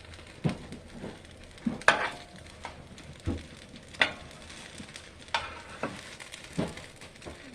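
A hashbrown omelet with melting cheese cooks in a frying pan, giving a low, steady sizzle broken by sharp scrapes and taps of a utensil stirring and turning it at close range.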